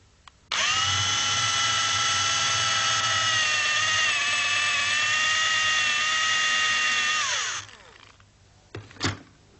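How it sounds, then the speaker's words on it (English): A handheld rechargeable drill bores into wood with a steady high whine for about seven seconds, then winds down and stops, followed by a couple of faint knocks. "So I'll use a rechargeable drill and I'll hold it with my hands"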